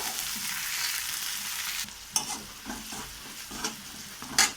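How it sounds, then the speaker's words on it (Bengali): Steady sizzle of beans frying in a wok that drops off halfway, followed by scraping stirs and clanks of a spatula. "বিম কড়াই করে লাল লাল করে একটু ভেজে নেব।"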